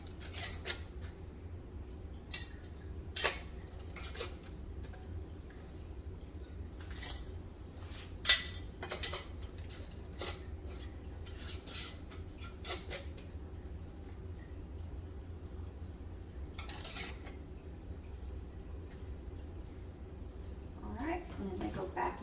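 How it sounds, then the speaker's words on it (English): Two-part metal lids are screwed finger-tight onto canning jars of sweet potatoes, giving scattered light metallic clicks and clinks, faint and spaced out, over a low steady background hum with some talk. "Then we put our 2-part lids on."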